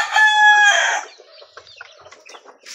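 A backyard-bred rooster gives one loud close crow, then breaks into a run of softer, scattered clucks.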